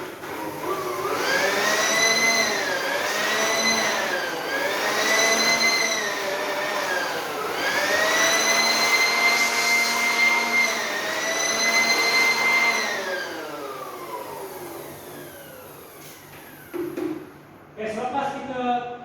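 Compressed-air blower blasting water out of a wall-mounted split-unit air conditioner's drain pan during maintenance, a loud continuous whooshing roar with wavering pitch that runs steadily for about thirteen seconds, then cuts off, leaving a few short bumps and handling noises.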